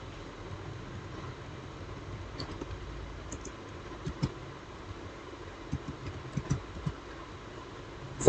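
Faint, sparse keyboard clicks while typing into an Excel spreadsheet, a few isolated taps standing out over a low background hum.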